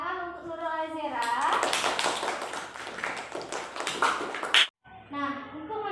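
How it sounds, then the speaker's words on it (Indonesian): A classroom of children claps in a burst of scattered applause that sits among kids' voices and a teacher's speech, with the talk continuing after the clapping stops. "Tepuk tangan untuk Nurul Azira."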